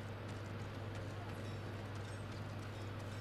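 Steady clip-clop of horse hooves at a walking pace over a constant low hum in the video game Ghost of Tsushima, moderately quiet with no talking.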